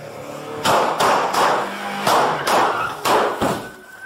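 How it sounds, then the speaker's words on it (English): Fresno police fire at a home invasion suspects' vehicle, about seven sharp, loud shots in an uneven burst, some in quick pairs, with a brief gap in the middle. "Shots fired!"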